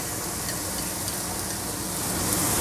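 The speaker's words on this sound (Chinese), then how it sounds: "放在一块儿翻炒" Carrots and potatoes stir-fried together in oil in a pan, giving a steady, dense sizzle and hiss that swells slightly toward the end, with no voices.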